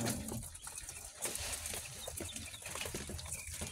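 Young chicks at a poultry farm give off a dense, continuous chorus of chirping and peeping, with soft flutters and clucks mixed in, steady and fairly close.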